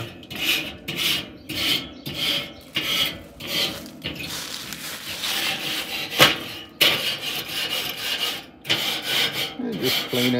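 A metal grate cleaner scrapes back and forth across a Weber kettle grill grate, producing loud rhythmic rasping strokes at a steady pace, alone with no talk.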